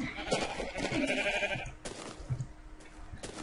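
A Minecraft sheep bleats a few times, fairly faint, among soft clicks and game noises.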